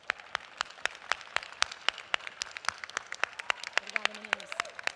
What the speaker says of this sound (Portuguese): Palmas pra vocês.